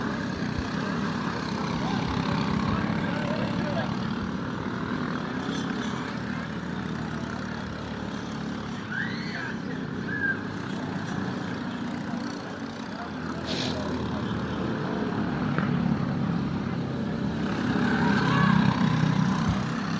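Racing karts at the IKF Grand Nationals go flat out through a turn, their engines droning steadily at a distance in a continuous buzzing wash with no clear pauses.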